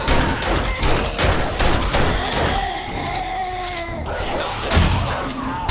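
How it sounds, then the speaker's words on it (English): Gunshots from the survival game 7 Days to Die during a Blood Moon night ring out in rapid, loud volleys and scattered single shots, mixed with snarling, yowling creature cries and game noise. "I hear gunshots everywhere trying to survive."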